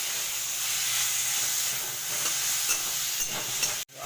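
Garlic paste frying in oil with onions, a steady close sizzle and hiss throughout that cuts off abruptly near the end.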